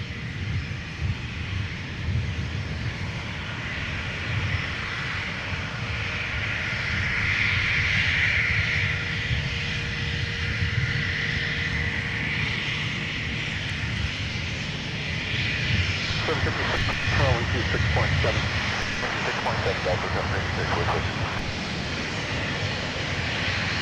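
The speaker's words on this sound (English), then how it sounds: "runway heading, runway 17, clear for takeoff." Fixed-wing airliner taking off from runway 17 at Minneapolis–Saint Paul airport, heard as a steady, loud engine roar building and sustained throughout, distant, with a voice talking over it.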